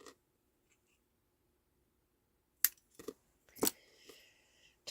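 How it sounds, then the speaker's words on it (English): Scissors cutting a rubber stamp, heard as a few crisp close snips and rustles after a quiet stretch, faint overall with light handling noise. "I am cutting the stamp"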